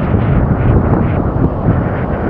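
Steady wind buffets the microphone in a loud, low rumbling roar with no pauses, outdoors while fishing with a casting lure.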